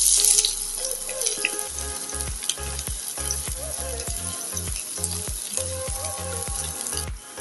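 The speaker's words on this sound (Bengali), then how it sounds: "আমি ফ্রাই প্যানে তেল গরম করে নিয়েছি। দিয়ে দিচ্ছি কুচানো পেঁয়াজ" Chopped onion sizzling and frying in hot oil in a frying pan for a vegetable spring roll filling, a steady loud crackle with a repeating low rhythmic thumping running underneath throughout.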